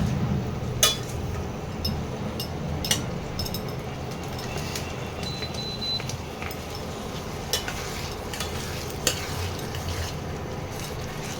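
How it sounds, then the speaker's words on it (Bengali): Lentils stir-fried with spices in a pan, a soft steady sizzle with occasional light clinks of a utensil against the metal pan, quiet and continuous, no talking. "এবারে ডালটা দিয়ে মশলার সঙ্গে একটু কষাতে হবে।"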